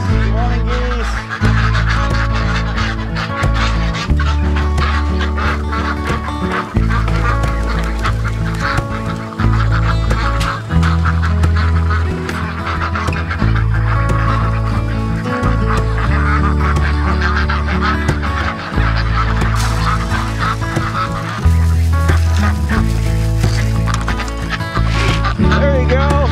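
Farm geese honk loudly and continuously nearby during morning animal chores, a dense, overlapping chorus of harsh calls that fills the whole stretch with hardly a pause.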